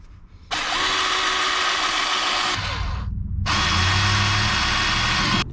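A power drill with a 1/8 inch bit bores holes for a BMW M Performance pedal install in an E82 135i, running in two long continuous bursts with a short pause between, close and loud.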